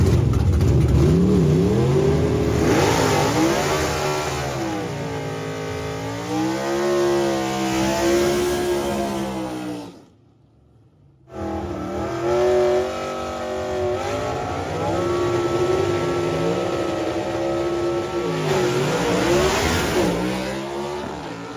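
A 1969 Corvette gasser-style drag race car with a hand-formed aluminum scoop revs loudly and up close, its engine note rising and falling in repeated surges, cutting out briefly near the middle before roaring back.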